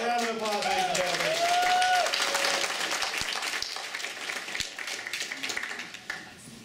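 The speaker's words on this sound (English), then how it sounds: "A round of applause, ladies and gentlemen." An audience at a City of Heroes player summit keynote applauds, a full burst of clapping that slowly thins and fades, with a voice and a brief tonal sound over the start.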